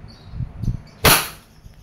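Single-action shot from a Wingun 708 CO2 airsoft revolver: one sharp, loud pop about a second in with a quick fading hiss, preceded by faint handling clicks.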